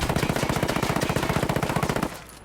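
An assault rifle fitted with a shorter barrel fires a rapid sustained automatic burst in Ghost Recon Wildlands, roughly two dozen sharp evenly spaced shots for about two seconds, then stopping abruptly into quiet.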